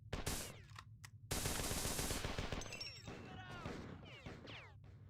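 Rapid automatic gunfire in a first-person shooter game, loud bursts of sustained rattling shots with sharp impacts and crashes, continuing for several seconds without voices.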